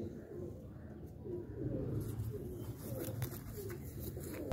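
Pigeons of a prized fancy pair cooing close by, soft repeated low coos over quiet room tone, with faint background sounds later on.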